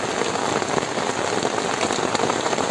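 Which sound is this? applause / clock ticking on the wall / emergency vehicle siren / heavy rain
heavy rain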